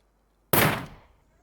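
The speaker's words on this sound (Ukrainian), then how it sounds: "хтось стріляє з маяка" A single sharp gunshot from a shotgun fired at the lighthouse in the video game SCUM, a loud close crack with a decaying tail after silence.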